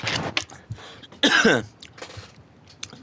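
A man clears his dry throat with a short, harsh cough-like rasp, loud and close, alone apart from a brief breath before it.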